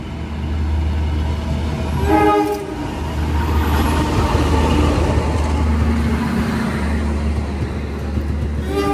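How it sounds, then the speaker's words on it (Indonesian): A train horn sounds in short bursts around the start, then the heavy Majapahit passenger train rolls in steadily at an Indonesian station with constant low engine drone. "ini dia keretanya datang"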